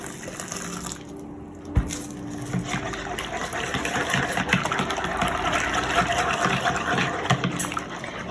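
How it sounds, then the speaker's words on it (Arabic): Milk being poured slowly into eggs beaten with sugar while stirring, a steady liquid trickle and faint scraping close by, with a brief clink partway through. "كنزيد الحليب وانا كنحرك"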